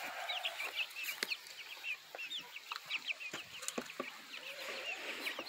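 Hungry chickens by a backyard coop clucking and chattering in busy overlapping calls, close and lively, with scattered clicks and scratching between them.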